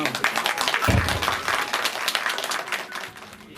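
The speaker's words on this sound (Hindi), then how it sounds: "तालियां बजती रहनी चाहिए" Applause from the crowd at a road inauguration ceremony in Bhuin, Chamba, with steady clapping running throughout and a voice speaking over it.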